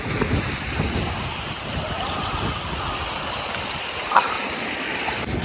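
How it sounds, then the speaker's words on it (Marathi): A babbling stream flows steadily at a scenic rural spot near Shri Kshetra Malanggad, its close, continuous rushing hiss holding at an even level with one brief splash near the end. "पाण्याचा खळखळाट आहे."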